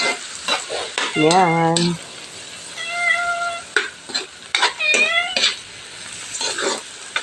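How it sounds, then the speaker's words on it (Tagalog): Ampalaya with egg is stirred in a sizzling pan, with scraping stir strokes over frying crackle; a cat meows several times nearby and a voice briefly speaks. "Haluin ko siya guys"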